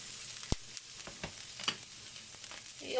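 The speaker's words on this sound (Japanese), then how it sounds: "にんにくと、 根っこですね、パクチーの。 これをさっと炒めます。" Garlic and coriander roots stir-fry in a little oil over low heat, a faint steady sizzle with occasional light scrapes and knocks.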